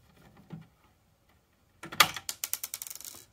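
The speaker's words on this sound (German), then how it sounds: "kann hier diese beiden Schrauben lösen" Screws being loosened on a Blue Walker VI850 UPS with a failed battery: a faint bump early on, then a burst of close, rapid mechanical ratcheting clicks in a quick, even series.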